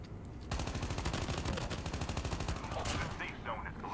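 Sustained rapid automatic gunfire in the video game Call of Duty Mobile, a dense loud burst of rattling shots running continuously for several seconds with sharper bangs near the end.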